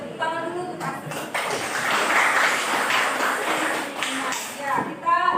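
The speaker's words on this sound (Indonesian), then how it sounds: "Tepuk tangan dulu untuk Asri." Classroom of students clapping for a classmate named Asri, a steady broadband patter of many hands lasting several seconds, with voices mixed in at the start and end.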